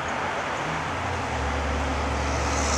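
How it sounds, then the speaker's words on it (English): Road traffic passing nearby, a continuous broadband roar with a low engine rumble that swells in the second half, no voices. "there's traffic here, which would be considered background noise"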